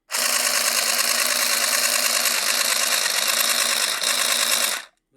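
A handheld sewing machine stitches in one steady, loud mechanical whir with a fast buzzing rhythm, running alone for about five seconds before stopping abruptly.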